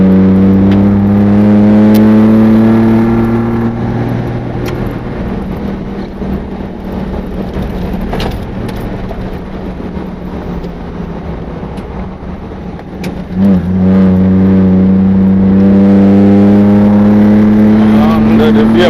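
An overland vehicle drives along rough country near the Ethiopia–Kenya border in north-eastern Kenya, its engine droning steadily and loudly with shifting pitch as it changes gear, while a person talks over it.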